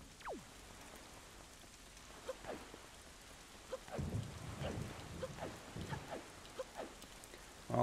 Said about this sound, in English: No auction during the storm. During the crazy storm.